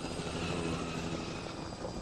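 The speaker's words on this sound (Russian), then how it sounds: "А где вертолет?" A helicopter flies overhead in the video game The Last of Us, a steady rotor chop and engine drone filling the short stretch at moderate, even loudness.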